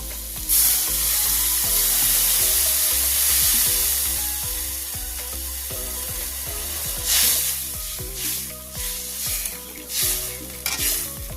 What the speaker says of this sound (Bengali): এবার দিয়ে দিচ্ছি পরিমাণ মতন জল।